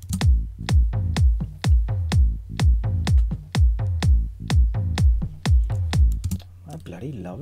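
Bass lines of a bootleg layered with a kick drum: a steady, loud four-on-the-floor thump with punchy decaying low hits, running evenly for several seconds before cutting to a softer tail.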